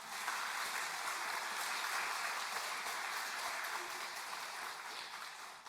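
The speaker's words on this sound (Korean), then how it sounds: "우리 환영하는 박수 한번 하겠습니다." A church congregation at a Sunday worship service applauds to welcome a choir soloist, with steady, even clapping at a moderate distance lasting several seconds.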